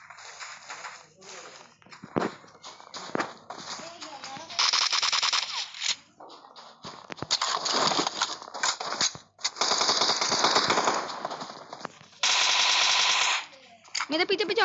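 Rapid gunfire from a newly picked-up gun in an online battle royale squad match, firing in several loud bursts with pauses between them, while players talk excitedly over it.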